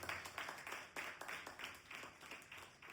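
Congregation clapping in church during an Easter Sunday service, a steady run of many hands applauding together in a reverberant hall, rhythmic bursts repeating without speech.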